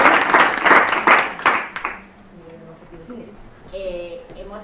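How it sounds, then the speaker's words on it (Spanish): An audience claps during an art and sustainability training session, with loud, dense applause for about two seconds that fades into quiet room sound and talking. "Aplausos."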